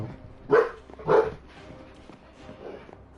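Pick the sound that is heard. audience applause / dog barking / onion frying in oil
dog barking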